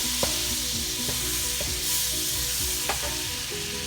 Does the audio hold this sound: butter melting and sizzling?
yes